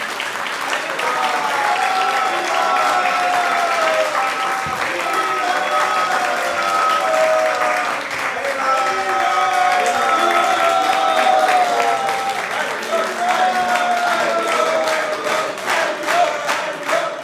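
An audience at a devotional talk claps in a steady round of applause lasting many seconds, with a voice or melodic chanting carrying over the clapping throughout.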